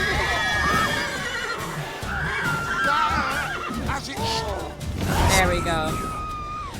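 Horse neighing and whinnying in The Witcher game with a few clip-clop hoofbeats, mixed under someone talking over it throughout.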